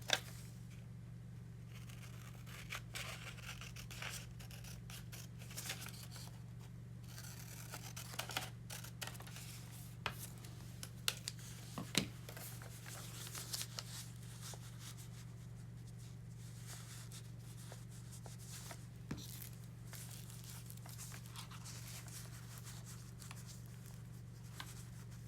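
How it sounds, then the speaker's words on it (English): Scissors cut out a paper picture for an art journal, making quiet, irregular snips and light paper rustles over a low steady hum, with faint clicks scattered throughout. "So I am simply going to cut it out."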